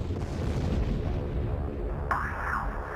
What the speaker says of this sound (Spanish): hubo explosiones múltiples.